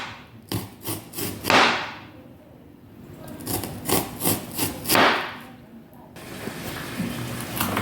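Onions chopped with a knife in a home kitchen, a series of rhythmic scraping and knocking strokes in short clusters, fairly close and moderately quiet, with a person talking over them.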